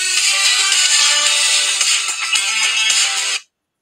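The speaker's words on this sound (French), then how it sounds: "J'ai oublié de couper ma sonnerie avant le début de l'émission." A phone ringtone blares loudly and continuously for a few seconds during a live broadcast, then cuts off abruptly into silence; no talk over it.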